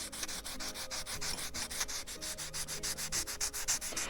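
Guitar hardware is scuffed with an abrasive before muriatic acid etching, a close, quiet run of rapid rhythmic rubbing strokes repeating evenly throughout with no talk.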